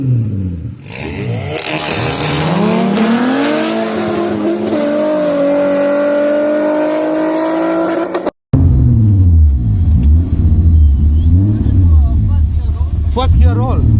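A VW Golf MK1 with an R32 engine swap revs hard and accelerates in a sustained, loud climbing engine note, drops briefly at a gear change, then pulls again with a rough, pulsing exhaust.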